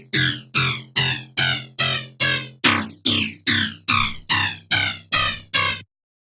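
Wavetable bass synth in Serum, heavy dubstep style, gated by LFO volume modulation into a steady run of about thirteen loud, even pulses, each swelling and cutting off with a gritty, phasing tone, then silence.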